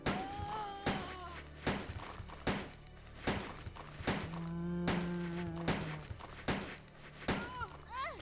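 Repeated sharp gunshots from the PlayStation 1 game Resident Evil 2, about a dozen evenly spaced loud blasts over several seconds, with game music and effects sounding between them.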